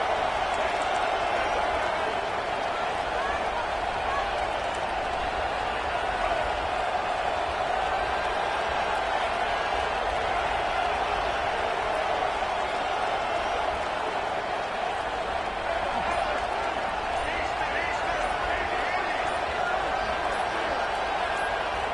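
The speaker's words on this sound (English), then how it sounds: "And with this place rocking, the crowd forces a false start." Dense, steady roar of a stadium crowd at a Georgia Tech vs Duke college football game, loud and continuous throughout with no letup, the noise swelling as fans rock the place on a fourth-down play.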